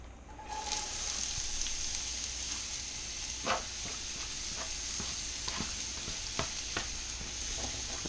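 Asparagus in hot oil in a pan gives a loud, constant crackling sizzle close by, with occasional soft clicks and scrapes from stirring and no talk.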